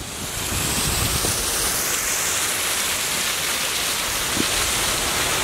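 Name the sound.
rain falling harder at an ancient Incan city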